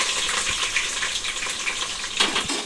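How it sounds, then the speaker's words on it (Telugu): Onions sizzle and crackle in hot oil as they fry to golden for a home-cooked chicken biryani, a close, continuous bubbling hiss with occasional louder pops and stirring sounds, no talking. "ఇవైతే మనం ముందుగా మంచిగా గోల్డెన్ కలర్ రావాలి, ఫ్రై చేసుకోవాలి."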